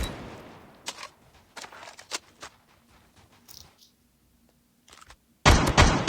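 Suppressed BK57 rifle fire in a Call of Duty game, several sharp, muffled shots spaced irregularly across quiet gaps, ending in a louder, denser cluster of shots with no voices.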